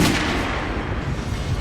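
A gunshot in the Metro Last Light shooter game, one loud report right at the start of a dense, steady din of game noise that trails off and fades over about two seconds.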